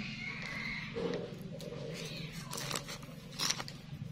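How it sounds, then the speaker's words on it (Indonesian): Cats fight outdoors near a garden, a yowling cat call rising and falling amid scuffling, crackling and crunching noises at moderate distance. "Itu ada kucing berantem"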